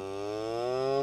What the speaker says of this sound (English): he's mooing now